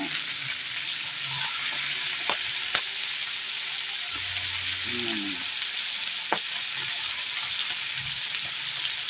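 Shrimp fry in a pan with a constant bright sizzle and crackle, close by, joined by occasional clicks and light knocks from stirring.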